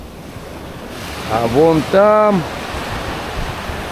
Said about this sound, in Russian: Привет, Азовское море.